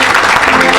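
Audience at a church mission gathering breaking into applause, a dense loud burst of clapping filling the brief moment, close and sustained without pause.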